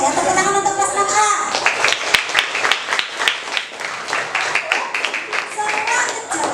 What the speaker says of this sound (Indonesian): Tepuk tangan untuk kelas 6A